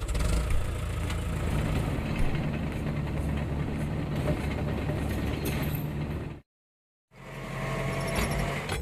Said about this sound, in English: Road roller.